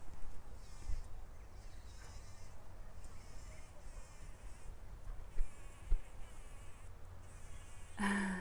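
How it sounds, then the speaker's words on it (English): Insects buzz steadily among dog roses in a wild, weedy allotment garden border, a soft continuous drone with faint outdoor ambience, ending in a brief louder rustle. "I think these are dog roses, and the bees go nuts for them"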